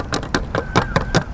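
Loose items knocking about inside a motorcycle pannier, six sharp, evenly spaced rattling clatters in a quick rhythmic series, close and fairly loud, with no talk.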